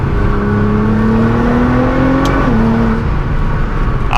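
Nissan GT-R with a Stage 2 tune accelerating hard in third gear, a loud, close, continuous engine drone rising steadily in pitch, with a brief shift blip near the end and no voices.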